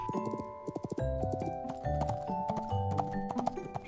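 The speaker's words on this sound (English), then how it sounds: "She is riding a horse." Horse hooves clip-clop in quick rhythmic knocks over light background music, moderately close.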